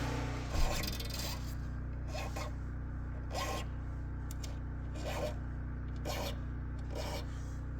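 A file lightly rasps the sharp fret ends on a Gruhn Versitar guitar, with soft periodic scraping strokes about once a second over a constant low generator hum, faint and close.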